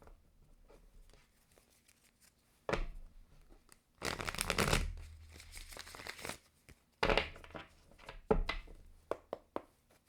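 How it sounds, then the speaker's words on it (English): Tarot cards are shuffled in scattered bursts: a long riffling flurry in the middle, surrounded by sharp taps and soft rustles of the deck, fairly quiet and close. "One more shuffle."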